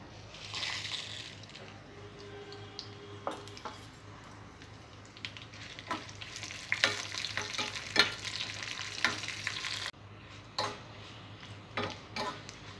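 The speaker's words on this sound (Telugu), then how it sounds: "ఆయిల్ వేడైన తర్వాత ఎండుమిర్చిని ఫ్రై చేసుకోవాలి." Dry red chillies frying in hot oil in a pan for curry leaf chutney, a soft crackling sizzle with scattered ticks and scraping stirs, a low steady hum beneath, close up.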